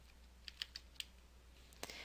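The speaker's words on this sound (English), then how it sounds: "simply type the information into the first field" Light typing on a computer keyboard while entering data into a form, a handful of quick, faint key clicks at uneven spacing, close but soft in a quiet room.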